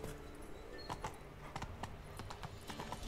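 Roach, a horse in The Witcher 3: Wild Hunt, clip-clopping along with a steady run of hoofbeats, fairly faint and close, under quiet game ambience.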